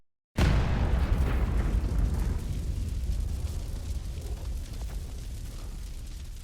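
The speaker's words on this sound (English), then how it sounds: "we have already seen some hydrogen stations blowing up" A hydrogen explosion erupts after a brief silence as a single loud, deep boom, followed by a long rumbling roar that slowly fades over several seconds.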